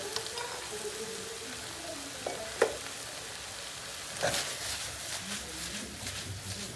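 Onions frying in a pan as red pepper powder, black pepper, chili flakes and cumin are stirred in: a continuous soft sizzle with a few scraping stirs and clinks, close and moderately quiet.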